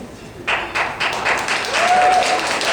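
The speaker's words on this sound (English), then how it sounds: "Applause for my people, that's awesome." Comedy club audience at the Denver Improv bursts into applause with a few cheers and whoops, a dense clapping wash starting abruptly and holding steady, fairly close and loud.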